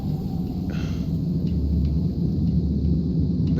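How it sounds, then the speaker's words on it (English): A video-game thunderstorm in Starsand rolls on as a steady, heavy low rumble with a hissing wash of wind and rain, continuous and fairly loud with no speech. "Frickin' storm."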